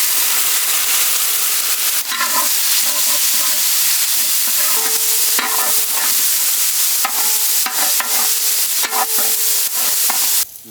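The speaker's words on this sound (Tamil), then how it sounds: "தக்காளி மிளகாய் அப்படியே இறக்கணும்க்கா." Tomato and chili hit a hot pan for a mutton head and drumstick flower dish, giving a loud, steady, hissing sizzle. Clanks and scrapes from stirring break in at intervals throughout, with no voices.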